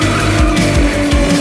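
Several six-cylinder four-door sedans drift out of a junction on a Japanese street, tires squealing loudly and continuously with rising and falling pitch sweeps over a roaring engine.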